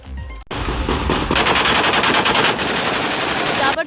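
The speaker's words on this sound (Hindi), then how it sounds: "सड़कों पर सिर्फ गोलियों की गूंज सुनाई दे रही है।" Rapid automatic gunfire echoes through streets in Pakistan's Sindh province, loud sustained bursts of machine-gun fire rattling continuously with a ringing reverberant tail.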